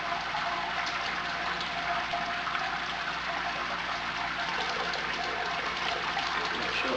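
Sparge water drains quickly from a Brewzilla all-in-one brewing system on a red IPA brew day, a steady, even rushing gush of liquid that holds constant throughout without pause or talk.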